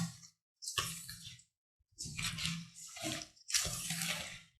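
Water is poured over powdered rock sugar and stirred together for honey amla, heard as short splashy pouring bursts separated by brief silent pauses, close and fairly soft.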